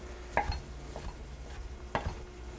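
Knife chopping through non-smoked bacon on a cutting board for pork ragu: two distinct sharp chops about a second and a half apart, with softer taps between them, close and quiet.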